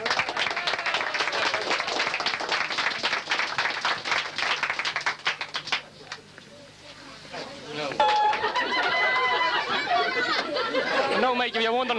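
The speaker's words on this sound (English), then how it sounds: "No, Mike, if you're wondering what the cheer was," Crowd cheering and clapping at a hurling celebration, loud sustained applause and excited chatter for several seconds, then a brief lull before talking and laughter rise again.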